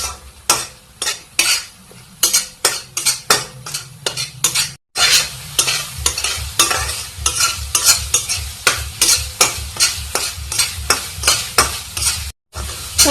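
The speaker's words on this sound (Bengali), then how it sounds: "এখানে আমার মশলাটা খুব ভালো ভাজা হয়ে গিয়েছে" Spice masala for fish curry fries in a pan, with loud, rhythmic spatula scrapes and clanks repeating every half second or so over a continuous sizzle, close and busy.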